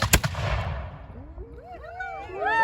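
A matchlock musket goes off in one sharp, loud outdoor blast at a living-history village, its boom dying away into a low rumble while voices and calls rise afterward.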